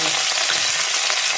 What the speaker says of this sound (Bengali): এবার আদা আর কাঁচা লঙ্কার পেস্টটা দিয়ে দেবো, দিয়ে একটু ভালো করে ভেজে নেব।